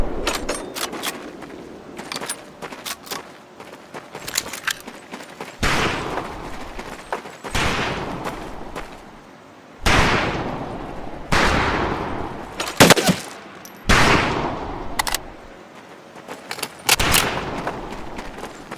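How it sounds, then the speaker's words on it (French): Thompson submachine gun bursts from a Medal of Honor: Pacific Assault training camp, loud sharp volleys of automatic fire repeating in clusters with brief gaps, no talking. "Le caporal Bates va vous donner un pistolet mitrailleur Thompson à chacun."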